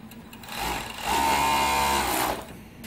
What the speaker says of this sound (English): A four-layer beautiful stitching of overlock.